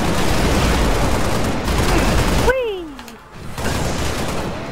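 Minigun turret fire in the video game Halo: Reach, a loud, dense burst of rapid shots that cuts off abruptly, followed by a whooshing sweep and more loud game noise.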